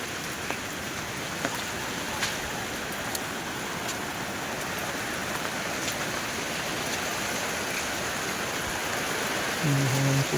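Monsoon rain pouring down in a Malnad village near Kalasa, a dense, even hiss of drops on surfaces filling the whole stretch, with faint sharper ticks and no talk.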